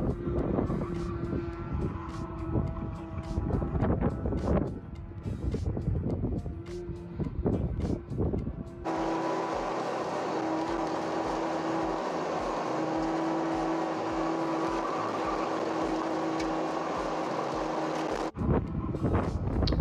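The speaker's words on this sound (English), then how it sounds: "this is just second gear going in circles for minutes at a time" Toyota AE86 with a 3S-GE engine and billet oil pan prototype circling in second gear, its engine drone steady with wind buffeting, then a closer, stronger engine hum settles in for the second half.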